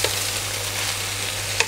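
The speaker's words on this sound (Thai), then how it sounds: "ก็ผัดจนผักสลดนะครับ" Fresh spinach stir-fried in a pan over moderate heat gives a steady, close sizzle, with a light clack of the utensil at the start and end.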